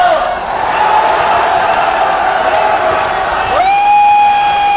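A crowd at a conservative party leadership rally in South Korea claps and cheers loudly and continuously, with a sustained, steady tone ringing over the noise that shifts pitch briefly before settling.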